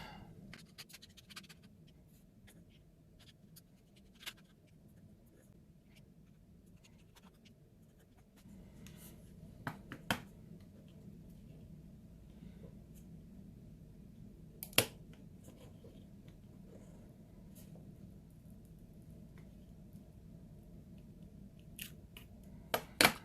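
Small screws come out of the heatsink inside a Nintendo Switch OLED console during a teardown. Quiet scratching and faint metallic clicks from a screwdriver sound close, and occasional sharper ticks stand out over a low background hum.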